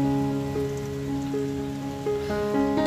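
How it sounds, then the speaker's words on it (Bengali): Steady rain falls on surfaces nearby, a continuous even patter laid over a persistent tonal hum, with no voices. "বৃষ্টি শুরু হয়েছে"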